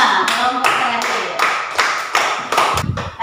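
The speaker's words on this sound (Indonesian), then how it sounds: "tepuk tangan untuk kelompok 5, kelompok terakhir" A sixth-grade class in a classroom applauds the last student group, with steady rhythmic clapping in loud bursts from many hands, close and lively, and some voices mixed in.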